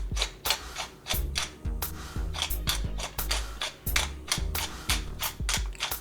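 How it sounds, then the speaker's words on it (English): A hand pepper mill grinds fresh black pepper in a home kitchen, giving repeated close, crunchy cracking bursts in an uneven rhythm with no talking. "I'm gonna crack in some fresh black pepper."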